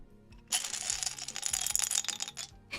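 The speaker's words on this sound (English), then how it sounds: "Loud ass dice ASMR." A four-sided plastic die rolled across a hard surface: a quiet opening, then a loud burst of clattering, tumbling clicks and rattles that gradually thin out, with a final sharp tap at the end.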